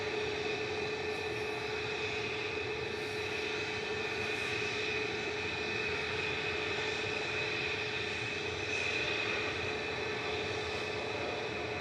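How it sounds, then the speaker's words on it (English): An easyJet Airbus A320 holds on the runway at Manchester Airport, its jet engines giving a steady, moderately distant whine and rumble that stays level throughout with no talk over it. "EasyJet 701 to Belfast is lined up and ready to go."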